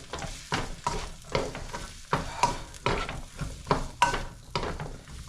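Carrots and other vegetables sizzle and scrape in a pan while being stir-fried for pancit canton, with steady frying hiss broken by repeated rhythmic stirring strokes, close and fairly loud, no talking.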